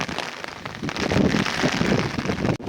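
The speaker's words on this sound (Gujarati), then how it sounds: "વરસાદે બાકી જામો પાડી દીધો." Heavy rain pours over waterlogged farm fields in a dense, steady hiss with some wind buffeting, holding close and loud throughout before a brief dip near the end.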